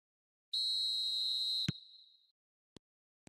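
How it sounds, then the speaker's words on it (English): A referee's whistle in a football video game gives one long, steady, piercing blast that cuts off sharply, followed by a few isolated clicks. The setting is otherwise quiet. "There's the whistle."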